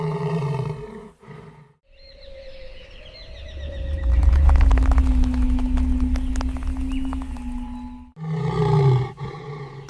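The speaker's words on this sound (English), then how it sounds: "The king roars a terrifying, deep warning." A male lion in the Tanzanian wild gives a long, deep roar that swells loud and rumbling for several seconds, rising out of quieter animal calls and ending abruptly before another burst of sound.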